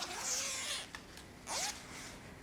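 A zipper on a fabric laptop cover is pulled open in two quick, close, crisp zips with a short pause between them, no voices.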